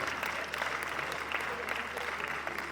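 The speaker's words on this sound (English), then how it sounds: "I like that we celebrate this historian, great historian, with another deserving round of applause." Sustained applause from an audience at a book launch on Ile-Ife, steady dense clapping with a faint voice murmuring underneath throughout.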